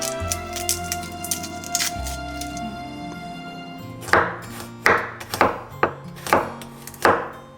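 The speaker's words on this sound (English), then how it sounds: "here I am taking 4 cloves of the garlic, which we are going to just peel the cover and finely chopped" Peeled garlic cloves being finely chopped with a knife: after a few seconds of quiet, a run of sharp, close blade taps lands on the board in a quick, uneven rhythm.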